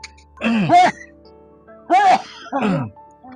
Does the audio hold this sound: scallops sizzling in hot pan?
no